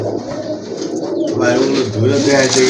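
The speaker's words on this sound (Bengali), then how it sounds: "এই যে দেখেন কাছে থেকে দেখা দিচ্ছি একদম ফুল ফ্রেশ কবুতর" Pigeons cooing close by at a bird market, soft throaty warbles rising and falling, with a voice and market murmur underneath.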